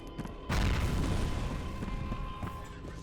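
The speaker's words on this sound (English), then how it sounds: "Oh, throwing grenades." A grenade blast in the video game F.E.A.R. arrives as a sudden loud boom with a rumbling tail that sustains and slowly fades, set among derelict condemned buildings.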